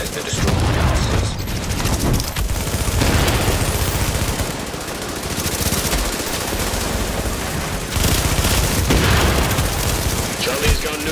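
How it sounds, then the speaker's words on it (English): Sustained heavy gunfire hammers a fortification in the video game Tom Clancy's The Division, with dense overlapping shots and booms continuing throughout at high volume. "Hostiles are firing on our fortification."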